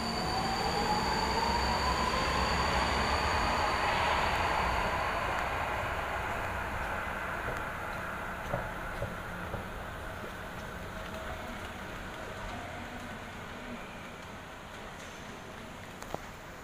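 A train carries riders from Incheon to Seoul, South Korea, with a steady close rumble of wheels on rail and a rising electric whine early on, then a smoother run that gradually quiets.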